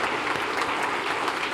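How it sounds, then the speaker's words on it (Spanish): Congregation in a church service applauds, a brief burst of steady, even clapping from a crowd at moderate distance. "Le dan un aplauso al Señor."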